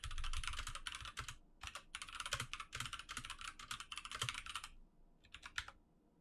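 Quick bursts of typing on a computer keyboard, close and clear, with rapid key clicks broken by short pauses as a comment is written.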